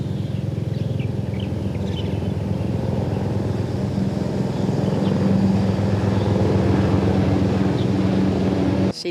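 UH-60M Black Hawk military helicopter flying over the Presidential Office Building in Taipei on a route-survey flight for the National Day ceremony, giving a loud, steady droning engine hum that runs throughout with no talk.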